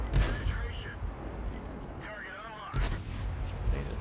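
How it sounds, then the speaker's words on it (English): Tank cannon shots in the game World of Tanks, two heavy booming blasts spaced a few seconds apart, each with a sharp crack and rolling low rumble over ongoing engine and battle noise. "He shot me."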